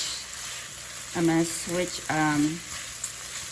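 Taco filling cooks in a preheated skillet on a stovetop, giving a steady soft sizzle with a few short tonal sounds rising over it in the middle.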